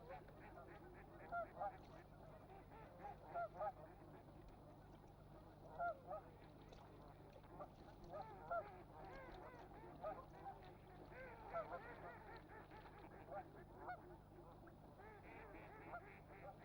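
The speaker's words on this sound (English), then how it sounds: "Flocks of geese and ducks will use these sheltered bays from now until the end of winter." Flocks of geese and ducks on a sheltered bay honk and quack in a busy, continuous chorus, some calls standing out nearer, over a faint low hum.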